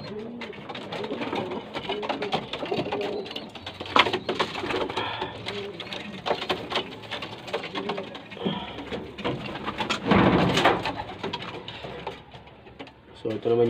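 Pigeons cooing in a loft, soft repeated coos and rustling around the birds, with someone talking over them much of the time.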